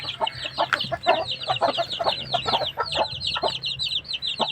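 Chicks and hens of a native Filipino chicken flock keep up busy, close, high peeping chirps and clucks throughout, layered and continuous with no talking.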